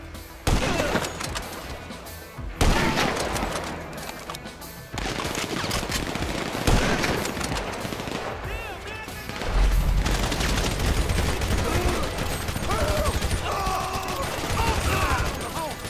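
Dense bursts of automatic gunfire and scattered shots fill a GTA 5 shootout on PC, loud and continuous with crashing impacts, while a voice talks over the chaos and tonal game sounds surface near the end.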